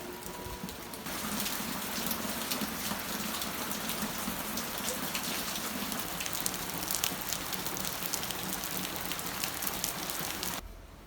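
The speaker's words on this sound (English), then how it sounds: "It's raining, so we can't go to the market today." Steady rain pattering on surfaces in rural Vietnam, a dense even hiss of drops with scattered louder splats, continuing without a break and fairly soft overall.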